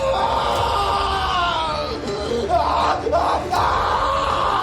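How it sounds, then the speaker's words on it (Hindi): Several people scream and yell together in a cramped store room, a sustained crowd-like outcry with rising, wavering cries cutting through a constant noisy background. "स्टोर रूम से चीखने की आवाजें सुनकर गार्ड्स दरवाजा तोड़कर अंदर आते हैं"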